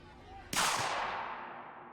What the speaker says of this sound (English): A gunshot rips through the tumult.